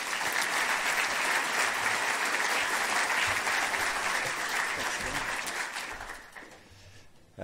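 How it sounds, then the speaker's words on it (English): Audience applause greets Mayor Phil Goff as he is brought to the stage at a climate event, a dense, steady crowd clapping that holds loud for about six seconds before thinning and fading out. "Can you give him a round of applause, please?"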